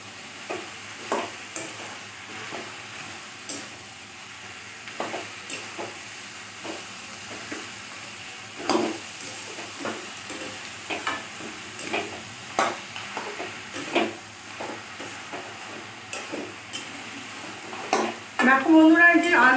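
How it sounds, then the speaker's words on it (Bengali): A catla fish head fries in a pan, a steady close sizzle marked by frequent spitting crackles and pops, with a sudden louder hiss near the end. "দিয়ে দিলাম আমি মাছের মাথাটা।"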